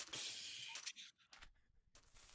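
Glass shatters loudly, a bright crash followed by scattered tinkling and clinking fragments in quick bursts, added as an edited effect over an otherwise quiet game-stream background.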